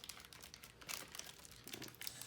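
Plastic packaging of a Dantoo LED fog light set crinkles and crumples as it is handled and opened, with steady close rustling and a few louder crackling bursts.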